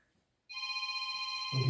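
A telephone rings during a church Wednesday service, a steady electronic trill sounding continuously and fairly loud, with a low thump near the end.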